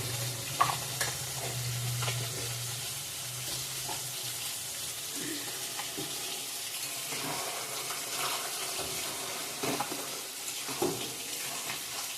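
Chicken gizzard curry sizzles steadily in a pan with garam masala as a utensil stirs it, giving continuous frying hiss with scattered scraping clinks throughout.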